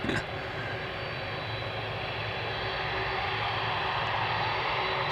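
Airliner bound for Moscow taking off from Schiphol's Polderbaan runway, a loud, sustained jet roar with a low rumble that holds steady and builds slightly toward the end.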